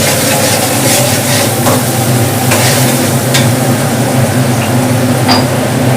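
Onions frying with turmeric in a pan, a loud, steady sizzle and crackle filling the whole stretch with no talking over it.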